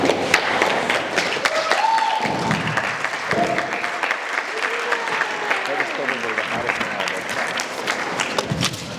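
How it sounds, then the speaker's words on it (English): A wedding crowd bursts into sustained applause and cheering after a groom's toast to his bride, dense clapping with whoops and shouts running steadily throughout. "Big cheer for Brendon."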